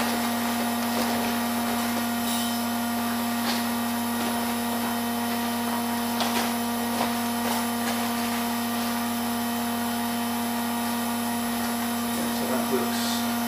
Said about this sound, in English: you'll hear the tone of the pump